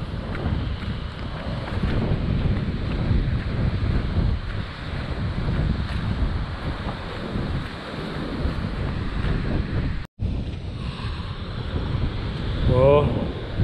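Strong, steady coastal wind roars and buffets the microphone throughout, with a brief dropout near the end, on Sardinia's west coast.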